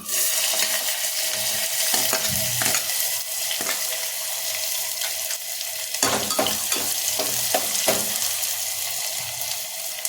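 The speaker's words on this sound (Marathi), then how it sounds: "तेल तापलं की त्यात कांदा टाकायचा." Onion sizzles in hot oil in a cooking pot with Marathi home-style preparation, a steady close crackle broken by intermittent stirring clatters and scrapes throughout.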